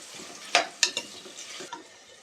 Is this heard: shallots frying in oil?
yes